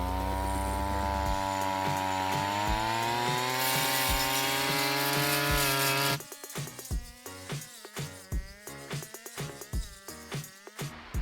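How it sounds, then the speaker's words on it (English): A weed eater fitted with a cutting blade shreds through briars, its engine droning steadily at high revs before breaking into a rapid series of loud, choppy bursts as the blade bites into the brush. "this blade actually appears to be working fantastically. I'm mowing through these briars"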